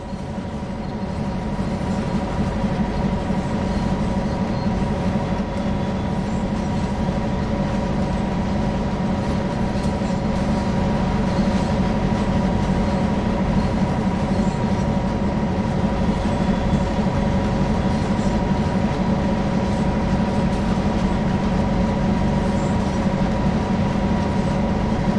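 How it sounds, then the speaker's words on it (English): Canadian National GP9RM diesel locomotive in Train Sim World idles and runs with a steady low engine drone and humming tones, accompanied by a constant rolling rail rumble and faint rhythmic clacking, continuous and loud. "Currently aboard a GP9RM diesel locomotive."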